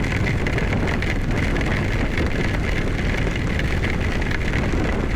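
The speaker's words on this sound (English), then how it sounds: "Like, I'm wondering if some of this is hail." A hail and rain storm with wind sweeps across an open highway near Amarillo, a steady, dense roar of pelting precipitation and gusts hitting close to the microphone without letup.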